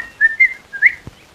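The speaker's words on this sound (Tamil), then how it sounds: "அதான் பதில் கூட விசில்லே வருது" A person whistles three short rising notes in a quick, playful phrase, close and clear, followed by a soft thump, with no speech.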